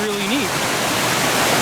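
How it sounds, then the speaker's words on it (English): A multi-level waterfall at a mini golf course gives a loud, steady rush of splashing water, with a person speaking briefly over it at the start. "Waterfalls, multi-level"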